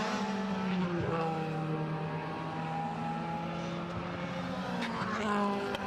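Onboard sound from a Castrol Edge BMW DTM race car lapping Zandvoort in 2014 qualifying: a loud, steady engine drone held close throughout, with pitch shifts as the car changes gear around the circuit.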